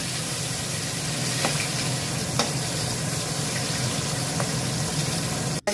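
Vegetables such as drumsticks, pointed gourd and potato fried in a pan in a home kitchen, giving a steady, faint background sizzle with a few soft stirring clicks and a sharp knock at the very end.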